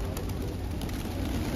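A flock of pigeons feeding on Darjeeling's Mall Road gives off faint, soft cooing over a light outdoor hiss in a brief moment.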